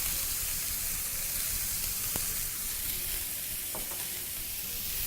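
Beef and minced ginger sizzling in a pan over very high heat, a constant hissing fry, fairly soft, broken by a couple of brief clicks.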